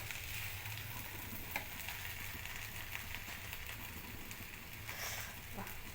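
Ivy gourd curry with green chillies sizzles steadily in a pan, a soft continuous frying hiss with a few faint stirring clinks, heard quietly beneath occasional speech.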